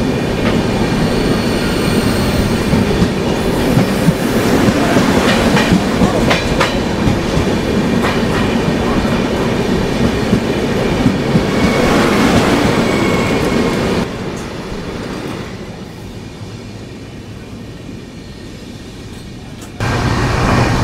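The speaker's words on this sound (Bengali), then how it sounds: "এই হচ্ছে বন্দে ভারত এক্সপ্রেস।" A Vande Bharat Express passes close by from a moving train near Gaya Junction, its loud steady rumble and rhythmic clickety-clack of wheels on rails filling the scene, dropping slightly after the passing cars clear.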